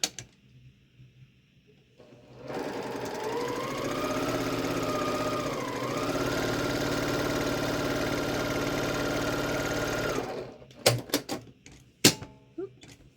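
A sewing machine stitches quilt heart block pieces, a steady mechanical whir running for about eight seconds with a slight speed change midway, followed by a few sharp clicks and handling knocks.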